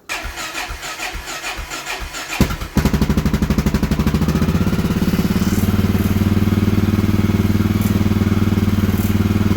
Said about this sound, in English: We have just warmed the bike up to operating temperature, and we are now going to change the oil and filter.